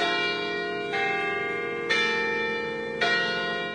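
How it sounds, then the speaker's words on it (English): Large Baylor church bells ring out in three slow, evenly spaced strikes, each tone swelling and lingering with a long resonant decay. "Waking up every morning to the bells."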